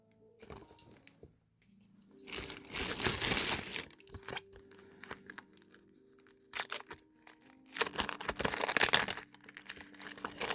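Plastic packaging around a sticker sheet crinkled and handled up close, in loud bursts of crackling with quieter pauses between; no talking.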